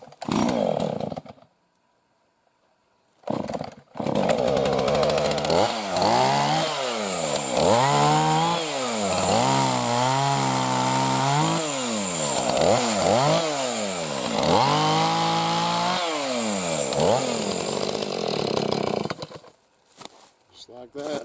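A chainsaw cuts wood outdoors, its engine revving up and down in repeated pitch sweeps for about fifteen seconds after a brief pause and a short burst at the start.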